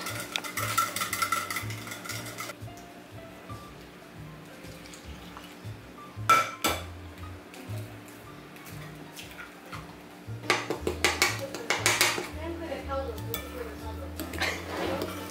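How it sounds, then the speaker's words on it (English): A utensil stirs milk and egg in a bowl, scraping and clinking against the sides in quick bursts, with faint voices in the background. "So then you add a cup of milk and an egg, and then you stir just to combine"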